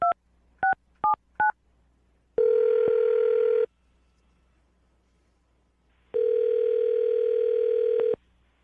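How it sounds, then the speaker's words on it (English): Four quick telephone keypad tones sound in a clean, close sequence. Two long, steady ringing tones follow, separated by a silent gap, with no voices. "I'm going to dial the phone number right now"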